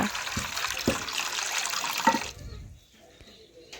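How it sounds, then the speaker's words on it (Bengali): Rinse water being poured off washed lentils from a bowl, a splashing, gurgling pour for about two seconds that then stops, leaving quiet dripping. "এই দেখুন ধুয়ে নিয়েছি, এখন জলটা ফেলে দেব।"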